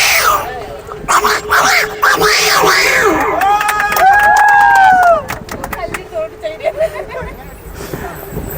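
A person vocally imitates two cats fighting, with rising and falling yowls, hisses and snarls in quick bursts before trailing off into scattered short cries, performed loudly by a mimicry artist.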